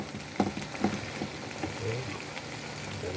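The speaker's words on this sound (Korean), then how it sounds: "이거를 다 한 다음에 아우 맛있게 끓는 거 보이시죠 이렇게" Stir-fried eggplant bubbles in a pan in a steady simmering crackle with scattered soft pops, fairly close, while a voice speaks intermittently over it.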